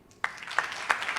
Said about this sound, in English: this round of applause is for you.